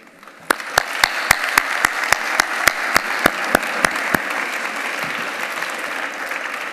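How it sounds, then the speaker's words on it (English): An audience at a Pakistani overseas congress event applauds in honour of women. A dozen or so sharp, evenly spaced claps ring out over a spreading crowd applause that swells and then fades out. "I want to personally share a big applause with you for all the ladies today."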